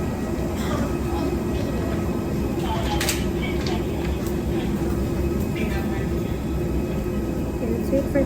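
Airplane cabin just after landing, filled with a steady, dense low roar of engines and airflow, with faint murmurs and brief clatter from passengers over it.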